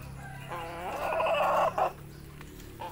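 Sick chickens cluck and call nearby, a burst of throaty clucks rising in the middle then trailing off, over a quiet background hum.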